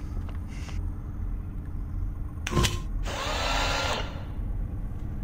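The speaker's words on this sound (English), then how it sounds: "And now we should be able to use our drill on this safely." A drill in the Stasis video game gives a sharp burst, then a sustained whirring grind of about a second, sounding close, with faint mechanical hum around it.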